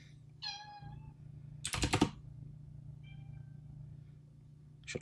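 A cat meows twice, first a clear drawn-out meow and later a softer one. A brief burst of computer keyboard typing falls between them, over a low steady indoor hum.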